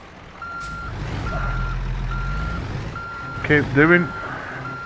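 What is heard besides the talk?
truck reversing with trailer, beeping, in American Truck Simulator video game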